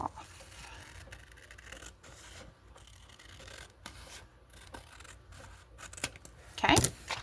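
Scissors cutting paper for a small window envelope, quiet close snips and rubbing sounds, ending in a louder crisp burst of paper handling.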